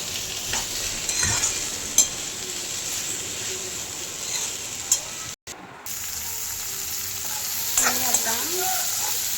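Okra (bhindi) sizzles steadily in a hot pan while being stirred, with occasional scrapes and knocks of the spoon and a brief dropout partway through.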